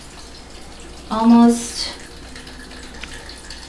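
Coconut water poured into a blender over blueberries and kale for a smoothie: a brief, fairly loud splashing pour of about a second, with a person talking around it.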